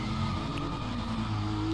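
Steady engine drone of a car drifting in Need for Speed ProStreet, held at a constant level for under two seconds, with no talk.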